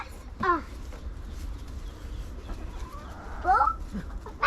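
Chickens being fed worms in a winter yard give two short bursts of squawking clucks about three seconds apart over quiet background, sounding close by.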